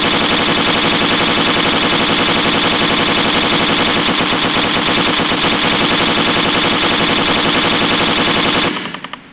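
An MG5 machine gun in the video game Arma 3 fires at a concrete wall in a sustained, rapid burst that hammers on without pause, loud and close, then cuts off abruptly near the end.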